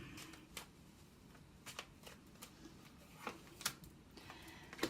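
Tarot cards are shuffled in faint, irregular bursts of soft riffling and tapping clicks, scattered across a quiet room with no talking.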